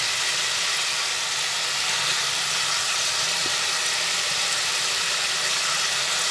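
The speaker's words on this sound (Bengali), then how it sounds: "একসঙ্গে সব মশলাগুলো ভেজে নিচ্ছি" Several spices fry together in a hot pan for a vegetarian potol and chhana dish, giving a steady, even sizzle and hiss that runs unbroken throughout with no voices.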